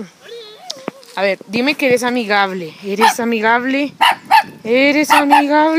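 A dog yips and barks in short bursts close by while a person talks over it in a high, coaxing voice.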